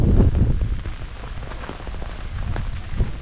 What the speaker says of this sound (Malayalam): മഴ കാരണം രാജിയൊക്കെ വന്ന് ആ ബോട്ടിലിരിക്കണേ.